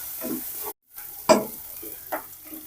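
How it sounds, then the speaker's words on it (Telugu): Masala with curry leaves and chillies sizzles in a pan while a spoon scrapes through it in a few separate strokes, with a brief silent gap early on and no talking. "ఇది కూడా బాగా కాస్త ఎరుపు వచ్చేంత వరకు మసాలా వేయించుకుందాం."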